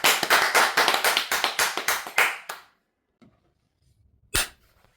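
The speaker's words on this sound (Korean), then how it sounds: "우리 만다라 보살님께 다시 한번 감사의 박수를 보내면서 오늘 방송 마무리하겠습니다." A few people on a broadcast give a quick round of thank-you clapping: a brisk, rhythmic run of about a dozen sharp, close claps lasting two seconds. Near silence follows, broken by a single soft tap.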